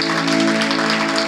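A church congregation claps together in a dense, steady wash, with a sustained musical tone ringing beneath the applause throughout.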